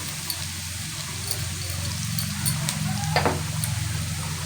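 Lentil dal with turmeric and salt fries lightly in a pan with a close, steady sizzle and soft stirring scrapes, including one brief louder scrape partway through.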